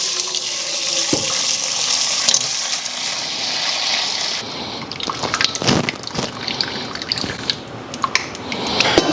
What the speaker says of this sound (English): to drain the stock, we're gonna get something to catch the broth in. Fine mesh strainer.